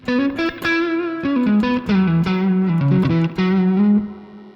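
An electric guitar played through a Sonicake Pocket Master multi-effects unit on its Neo Soul tone gives a smooth, clean-toned run of sustained notes and chord phrases, close and loud, with no voices.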